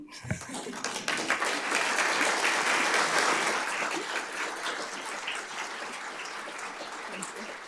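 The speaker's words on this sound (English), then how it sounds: "You may applaud." Audience applause fills an awards ceremony for the Howard County Department of Fire and Rescue Services, a sustained, dense wash of clapping from a large crowd that swells early and holds steady before easing slightly.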